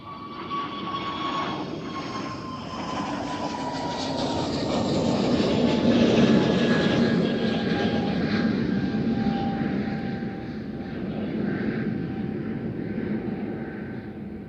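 Delta Airlines Airbus A330 departing Amsterdam Schiphol for JFK, its jet engines a loud, sustained roar with descending whining tones that swell mid-pass and then slowly ease off, no voices over it.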